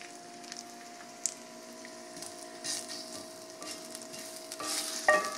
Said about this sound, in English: I use olive oil.